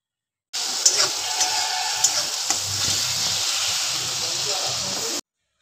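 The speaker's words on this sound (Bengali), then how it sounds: "আদা পেঁয়াজ রসুনটা তেলের মধ্যে দিয়ে ভালো করে আমি কষাতে থাকবো" Ginger, onion and garlic sauté in mustard oil, a steady close sizzling hiss with occasional light spatula clicks.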